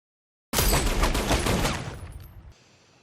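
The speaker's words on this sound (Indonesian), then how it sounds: "May menembak Alex." A sustained burst of gunfire rings out in a Russian mafia action film as one character shoots another. It is a loud, rapid fusillade that starts abruptly after a brief silence, then trails off into a fading echo, with no talking.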